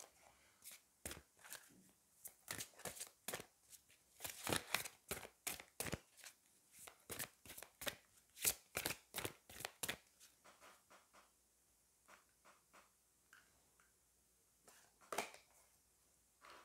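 Oracle cards are shuffled by hand up close, a rapid run of soft papery slaps and riffles that thins out into a few scattered flicks, faint and without any talking.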